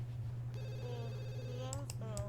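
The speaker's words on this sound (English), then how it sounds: "Answer that phone, girly." A telephone rings in The Sims 2, a bright electronic trill sounding through the game's background audio. It is followed by a few short, chirpy game cues over a constant low hum.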